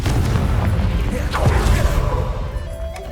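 Confringo fire spell in Hogwarts Legacy exploding, a single deep booming burst near the middle over a dense rumbling wash of game sound that fades off afterward.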